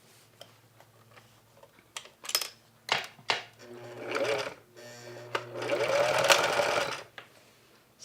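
A sewing machine stitching fabric while making dresses, heard up close in bursts of rapid mechanical clatter that start and stop, with a longer steady run near the end and no talk.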